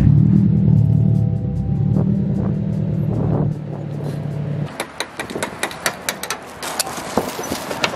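A supercharged Toyota GT86 with a UEL Subaru rumble exhaust idles in a deep, uneven burble, then the low drone drops away into a run of sharp pops and crackles, loud and close with no talking.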